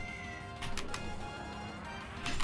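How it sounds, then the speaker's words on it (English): A cat meows faintly several times in short repeated calls over a steady background hum. "Cat."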